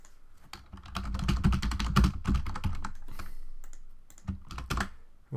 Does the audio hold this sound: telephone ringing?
no